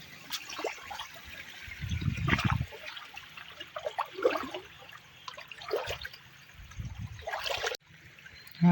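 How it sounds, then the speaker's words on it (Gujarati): Rainwater runs off in a steady trickling stream after heavy, wind-driven rain, with a few louder gushing surges close by. "તો અહીંથી જાય પાણી"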